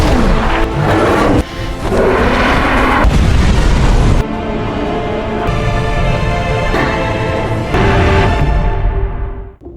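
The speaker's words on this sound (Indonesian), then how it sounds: "meskipun terkena ledakan nuklir, Doomsday ternyata malah semakin kuat" A nuclear explosion in a Superman film: a sustained, loud, rumbling blast with several booming surges and a roaring tail that fades out at the end, heard alone without talk.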